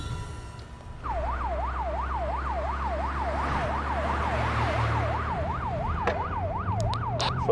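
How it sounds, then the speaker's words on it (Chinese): Police vehicle sirens wail in a steady, rapid rising-and-falling cycle, loud and close, over a low engine rumble after a brief quieter start. "所有车辆关闭警报器。"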